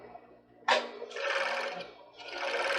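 A sewing machine stitches a lace-covered bra cup, starting with a sharp burst and then running in short, steady mechanical whirring runs with brief pauses, close and fairly quiet.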